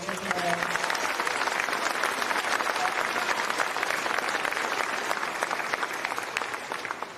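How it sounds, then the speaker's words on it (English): A big round of audience applause for students at an elementary school Veterans Day program, dense and continuous, holding steady before tapering off slightly toward the end. "Let's give all these students one more big round of applause."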